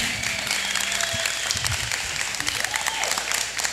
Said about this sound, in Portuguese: Eu quero muitas palmas para essa banda